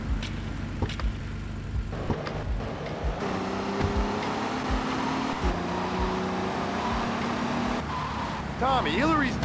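A car engine humming and shifting in the GTA Vice City video game, steady throughout at moderate level beneath characters talking.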